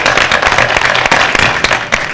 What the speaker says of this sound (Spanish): Un aplauso para Acuña.